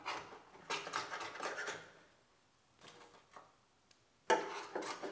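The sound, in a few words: scraping thick seam sealer undercoating off car body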